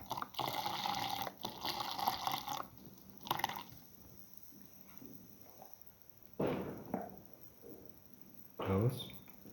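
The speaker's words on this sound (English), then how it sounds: "Pour in 150 ml of milk." Milk is poured into a blender jar of ground cardamom, watermelon and cashew, giving short bursts of liquid splashing and dribbling separated by quiet gaps.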